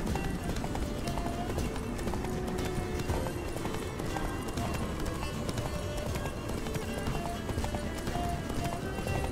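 A horse gallops in The Witcher 3, with steady rapid hoofbeats running continuously and loud under game character speech.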